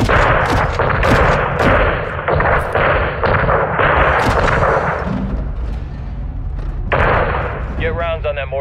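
Heavy gunfire in Call of Duty Modern Warfare 2 is aimed at a mortar crew: loud, close bursts of booming shots and thuds, then a quieter lull before more firing, with voices talking over the action.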